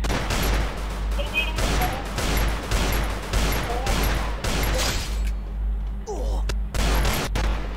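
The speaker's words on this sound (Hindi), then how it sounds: "ये देखो खुद गन छूटती है" Automatic gunfire in the mobile game Free Fire, rapid continuous bursts of shots repeating loudly through most of the stretch before cutting to a few isolated shots, with a voice talking over the action.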